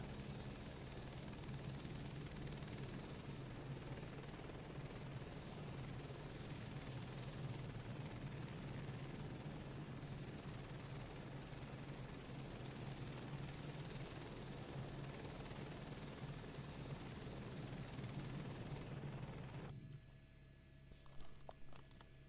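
Simulated helicopter in Microsoft Flight Simulator 2024 flying toward a helipad, giving a steady, loud rotor drone with a rapid low thumping beat that holds unbroken for about twenty seconds, then drops away abruptly at the end.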